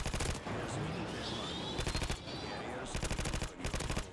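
A suppressed ACR rifle with red dot sight fires in bursts in Modern Warfare 2 multiplayer, rapid rattling clusters of muffled shots separated by short pauses at steady close range.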